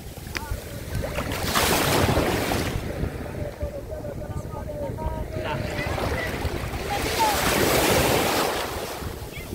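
Gentle sea waves wash onto the beach at Eforie Nord in the morning, two soft surges of surf rising and fading over steady wind buffeting the microphone, with faint voices in the background.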